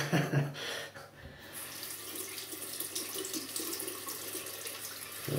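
A razor rinsed under a running tap, a steady loud rush of water into a sink with brief shifts as the blade passes through the stream.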